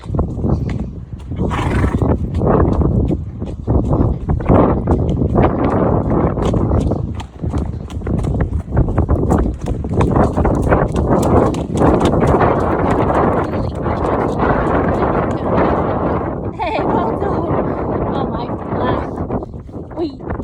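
Steady hoofbeats of a trotting mare on a hack over continuous rumbling outdoor noise and wind, with a voice speaking at times.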